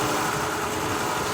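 A 2003 Mazda Tribute V6 idles with two spark plugs disconnected, giving a steady, close engine drone with a slightly uneven, lumpy low throb.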